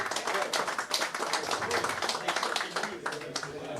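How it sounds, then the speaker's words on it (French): Guests at a seventieth birthday celebration applauding a newly named sports club vice-president, fairly quiet scattered clapping with uneven bursts and voices mixed in. "On peut l'applaudir."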